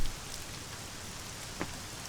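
Heavy downpour in the survival game Scum, a steady broadband hiss of rain drumming on surfaces with no voices, holding an even level throughout and one brief sharper splash near the end.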